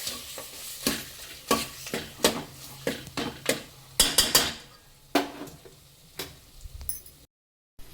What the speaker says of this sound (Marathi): आपण तेलामध्ये मसाल्यामध्ये मटण घातलेलं आहे. सगळं फिरवून घेऊया.